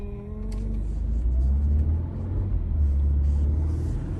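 A Renault Captur TCe260 drives at night, heard from the cabin as a steady low road and engine rumble that swells slightly, with a faint click near the start and no voices.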